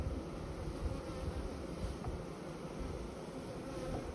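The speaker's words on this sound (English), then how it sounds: "Man, there's a ton of bees in there." A dense, steady hum of many bees fills an open beehive, the buzzing close and even throughout with no voices.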